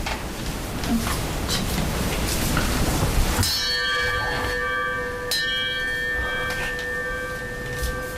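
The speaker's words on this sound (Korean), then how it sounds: "종소리 들었지?" A struck bell rings out clearly after a few seconds of rain-like hiss, its long sustained tones hanging steadily, with a second strike partway through adding fresh shimmer.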